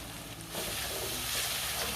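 Grated ginger and spices frying with tomatoes in a hot pan for a Bengali fish kalia, a loud, continuous close sizzle that swells after the first half second.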